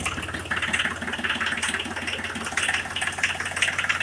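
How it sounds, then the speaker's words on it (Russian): Small diesel engine of a Japanese Hinomoto mini tractor idling with a steady, rapid knocking chug and mechanical clatter, close and fairly loud, with no voices. "Вот такой вот мотор."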